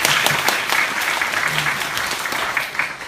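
Brief burst of congregational clapping at a church winter worship gathering, thanking the worship team, a busy crowd of hands close and steady throughout the short stretch.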